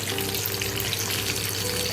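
Onions sautéing in a pan as tomatoes are added for a mushroom samosa filling make a dense, constant sizzle with a low steady hum beneath it, close and fairly loud, with no speech.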